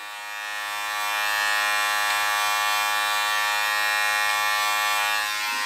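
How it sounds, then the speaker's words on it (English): An edge-up trimmer cutting beard hair during a beard line-up, a steady close electric buzz that ramps up and holds continuously with no talking. "keep your ears open to hear if it's actually cutting the hairs or not"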